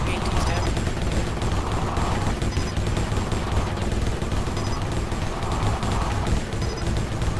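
Continuous rapid gunfire fills a 4v4 match on the Haven map, with shots peppering a gate in a dense, steady barrage.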